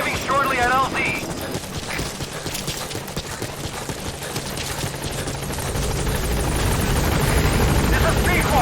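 A support helicopter comes in to land at a landing zone in Metal Gear Solid V, its rotor thrum swelling louder toward the end amid busy game sounds and scattered gunfire-like bursts.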